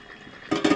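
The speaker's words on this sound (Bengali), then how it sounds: "এই জলটা দেবো দুধেতে।" Water poured into milk in a pot while making phirni, a brief quiet lead-in followed by a louder splashing pour near the end.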